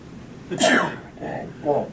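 A single sharp sneeze bursts out up close, followed by a couple of quieter voiced sounds.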